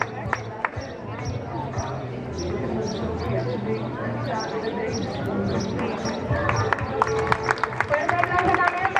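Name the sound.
audience applause at a fashion show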